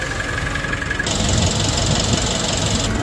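A Nissan NV350 van's diesel engine, just after turbo and EGR cleaning, runs at a steady, rumbling idle close by, with a higher whine joining partway through; no talk.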